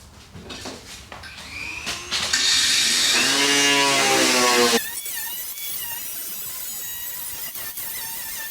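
Angle grinder cutting into the body metal of a VW Beetle: a few short bursts, then a loud, rising high-pitched whine as the disc bites, followed by a steadier spinning-down drone, close by.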